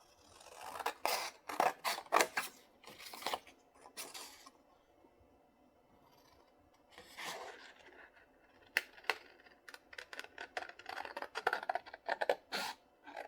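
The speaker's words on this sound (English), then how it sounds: "let's cut this piece out" Scissors cutting a paper piece out for a junk journal, close and quiet: clusters of crisp snips with pauses between them, denser, rapid snipping toward the end.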